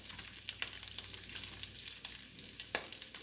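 Bacon crisping in a pan makes a steady, quiet sizzle with faint crackles and occasional sharp spatters, heard alone without voices.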